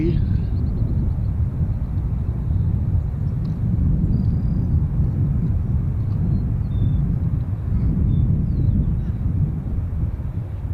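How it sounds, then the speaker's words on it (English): Jet airliner taking off at O'Hare International Airport, a steady loud low roar filling the whole stretch, with people chatting faintly in the background. "Airplane noise and me."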